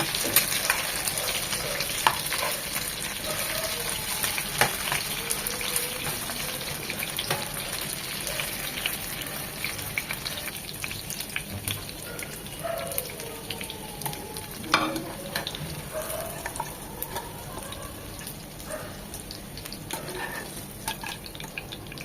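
Pieces of liver fry in hot oil in a pan with a continuous crackling sizzle. It is close and steady with small pops throughout and no talking.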